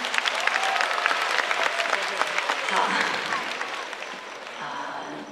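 A concert audience at a post-game performance applauds loudly, dense crowd clapping filling the space steadily with a voice speaking over it.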